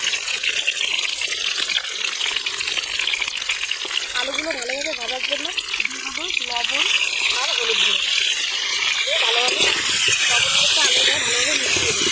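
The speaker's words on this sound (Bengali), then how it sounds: "এবার আলুগুলো আমি ভেজে ফেলবো" Potato pieces fry in hot oil in a kadai while cooking village-style chicken curry, giving a continuous loud, bright sizzling hiss with a voice-like sound cutting in now and then.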